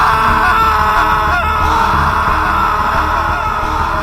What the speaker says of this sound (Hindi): उनकी चीखें कंपार्टमेंट में गूंज उठी और वे दोनों तड़प तड़प कर मर गए।